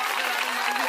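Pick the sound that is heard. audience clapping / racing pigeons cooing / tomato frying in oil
audience clapping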